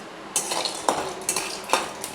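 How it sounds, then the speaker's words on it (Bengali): Lentil dumplings (bori) drop into hot oil in a pan, giving a few quick clinks and soft sizzling bursts at a regular pace, close and fairly quiet. "এবারে বড়িগুলো ছেড়ে দিচ্ছি।"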